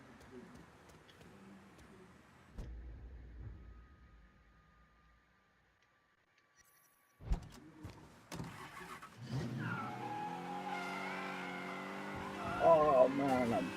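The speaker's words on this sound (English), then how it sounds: "Oh man, that tire burn." A car tire burnout in the video game Mafia III: a loud, sustained screech with rising tonal whine after an engine revs up, building toward the end, with speech nearby.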